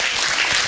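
Applause for a regional judge at a town festival in Lauria, a dense steady patter of clapping filling the short moment without a break.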